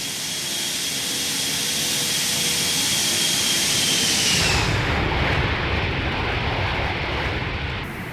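Simulated Boeing 747-200 jet flyby in a flight simulator, a loud, broad jet roar with a whining tone building up, then the whine drops away and a deep rumbling wash lingers as it passes.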